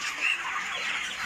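48-day-old broiler chickens on a farm cluck continuously in a dense, overlapping chorus, like a crowded flock close by.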